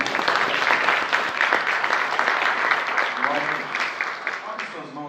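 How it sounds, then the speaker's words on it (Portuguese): A church congregation at a worship service claps loudly and continuously, with voices mixed in beneath the applause as it carries on throughout. "A igreja diz amém e aplaude ao Senhor Jesus."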